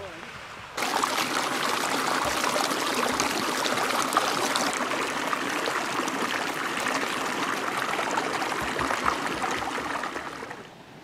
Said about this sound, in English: Just chilling by the brook, soaking in the vibes.